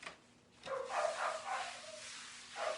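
A dog barks several times in quick succession, moderately close but fairly quiet, alone without talk.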